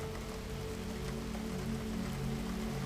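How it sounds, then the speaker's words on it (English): Steady rain falling on cobblestones at night, a continuous dense patter that stays even and loud throughout with no voices. "The rain had begun just after twilight, starting as a whisper against the cobblestones and building steadily into something more insistent."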